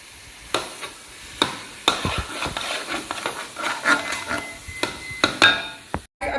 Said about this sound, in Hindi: अभी जो है वो तड़का लगने लगा है देसी घियोदा इसके अंदर हमारे हलवे में